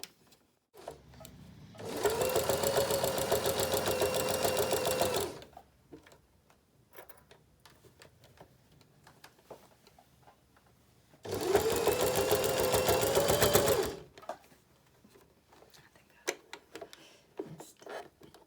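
A sewing machine stitches along the fabric top of a boot in two close, loud runs of about three seconds each. Each run is a fast, even mechanical whir, and quiet handling noises fill the gaps between them.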